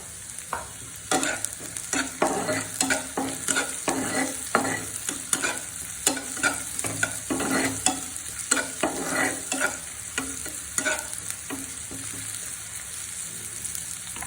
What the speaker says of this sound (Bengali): সামান্য পরিমাণ পেঁয়াজ কুচি দিয়ে দিচ্ছি